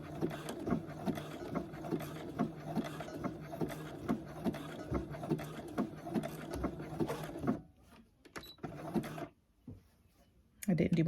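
Domestic sewing machine stitching an elastic waistband on kid's shorts, a fast rhythmic mechanical chatter running steadily before stopping and starting again in short bursts.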